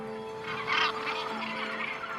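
A gannet colony on Bass Rock, Scotland, with tens of thousands of birds calling at once: a dense, continuous chorus of harsh honking cries, one louder burst standing out near the start.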